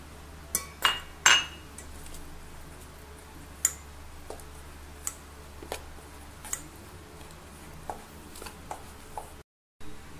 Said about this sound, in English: Now, I will mix it, this dry powder properly.